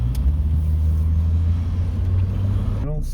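A 2006 Chevy Trailblazer engine running at a raised idle gives a steady, close, low droning rumble that holds evenly throughout, with a brief voice breaking in right at the end.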